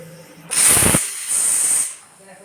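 Steam hisses sharply from a pressure cooker whistle while biryani cooks on a gas stove, a loud close burst lasting about a second and a half, with a short dip before a second strong surge that then fades.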